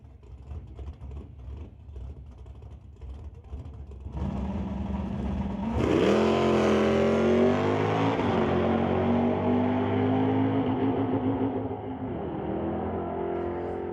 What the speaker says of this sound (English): Trouble for Schillick trying to get that car into gear, but will hang on.